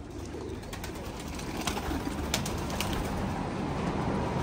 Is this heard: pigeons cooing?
yes